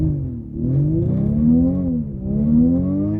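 The Denza Z electric hypercar sounds its artificial engine note inside and outside at once, a loud synthetic growl that dips, climbs and swells again over about three seconds.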